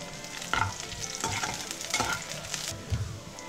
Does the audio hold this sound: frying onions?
yes